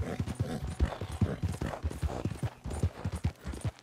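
Horse hooves galloping in Red Dead Redemption 2, a fast, continuous rhythmic clip-clop of heavy footfalls, close and steady throughout.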